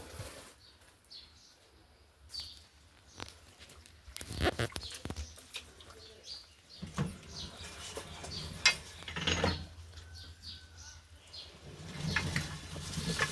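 A machine works through stacks of dried sheets with clattering mechanical clicks, ratchet-like ticks and intermittent thumps, steady and close, with faint voices now and then.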